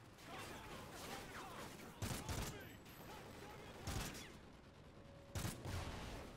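Gunfire from the Call of Duty: Ghosts video game, a continuous crackle of shots broken by three loud, sharp bursts spaced about two seconds apart. Quiet overall.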